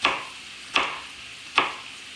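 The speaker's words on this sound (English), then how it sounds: "I'm just quartering them and then slicing them into pieces." Three sharp knife chops spaced evenly through vine-ripe tomatoes on a cutting board, close and crisp, each a quick thud with nothing else around it.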